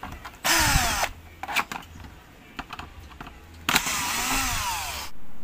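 A power screwdriver whirs in two sustained bursts, each spinning out a screw from the side of an LED TV under repair, with light clicks and handling noises between them.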